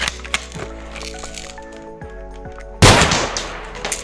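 A toy gun fires a shot with a sharp sudden crack, loud and near, followed by a short rattling clatter that fades. Electronic music plays underneath before the shot.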